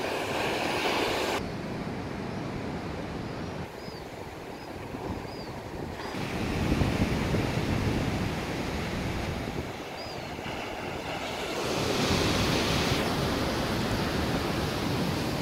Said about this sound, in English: These are really longboard waves.